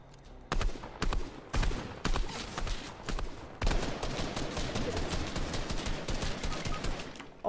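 Rapid bursts of Fortnite video game gunfire crack loudly and repeatedly, with sharp separate shots early on giving way to a dense, sustained volley of fire.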